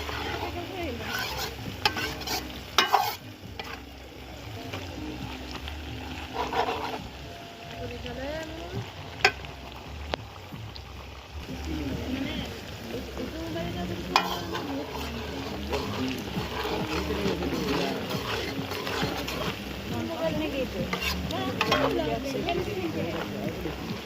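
Onions browning with garlic and fresh green chili in a home kitchen pan: steady low sizzle and frying crackle run throughout, with occasional louder clatters of stirring and a voice speaking over the cooking noise.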